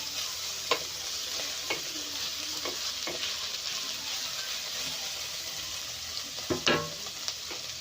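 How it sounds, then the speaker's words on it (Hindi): Cabbage and other vegetables stir-frying in a pan over a high flame for noodles, a steady broad sizzle with occasional scraping clicks of a spatula. "हाई फ्लेम में हमें इसे फ्राई करते जाना है। ओवर कुक भी नहीं करना है हमें।"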